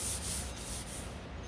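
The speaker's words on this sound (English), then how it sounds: "with wet sanding." Wet sanding with 800-grit paper on the bodywork of a 1969 C3 Corvette door, a soft hissing rub in quick back-and-forth strokes, close and fairly quiet, with no talk.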